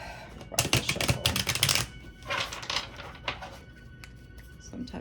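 A deck of cards is shuffled in two or three close, crisp riffling bursts with quieter handling between them, while someone talks over the shuffling.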